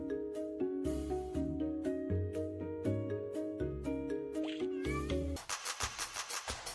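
Cats meow repeatedly in a cute cat-hiding video game, short mews over a bouncy plinking music loop, with a brighter chime flourish near the end.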